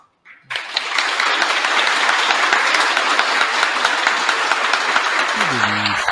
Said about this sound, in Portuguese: Vamos, então, abrir os microfones para darmos uma salva de palmas